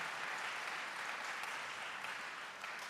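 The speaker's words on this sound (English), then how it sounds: "give a round of applause to our 3 panelists who have been here this morning" An audience gives a round of applause for three panelists at a morning session, a steady wash of many hands clapping, fairly distant and even throughout.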